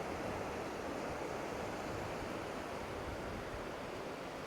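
Ocean waves crash onto Bang Niang Beach in Khao Lak, Thailand, in a light breeze, heard as a continuous, soft, even wash of surf without distinct breaks or voices.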